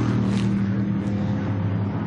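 Race cars from the Sunoco Lites series flash down the front straightaway, a dense, steady engine roar with low harmonic drone holding loud and close throughout.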